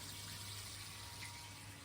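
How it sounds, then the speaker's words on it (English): A 12V pump fills a backyard spa with rainwater from a tank, giving a steady, even rush of running water and motor hum that holds at a constant level throughout. "You can hear the pump going there."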